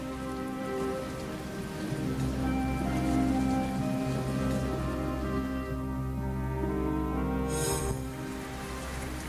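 Steady rain pours down throughout, a constant hiss of drops on surfaces with a low rumbling undertone.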